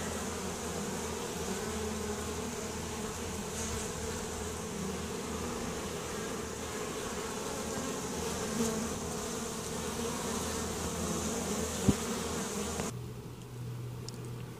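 Steady, dense buzzing of many honeybees swarming close by, a continuous droning hum that drops away abruptly near the end.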